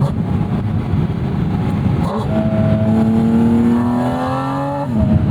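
Porsche 718 Spyder engine driven on the street, a loud continuous engine drone rising steadily in pitch as it revs up, then a quick shift and renewed pull.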